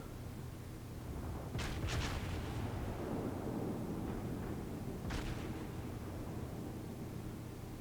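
Heavy battleship guns of the USS South Carolina fire in World of Warships, booming salvos rolling under a constant dense rumble of wind and sea noise, with sharper cracks breaking through twice.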